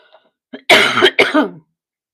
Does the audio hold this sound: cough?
yes